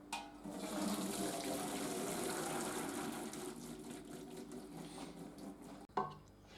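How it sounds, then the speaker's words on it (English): Boiling pasta water gushes and pours steadily for several seconds as pasta is strained into a sink, then cuts off with a faint clunk. "Now you just want to strain your pasta, but be careful of the boiling water."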